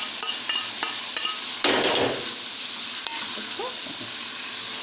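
Minced onion frying with meat in a pot, a steady sizzle broken by clanks and scrapes of a spoon against the metal, with a louder burst of frying partway through.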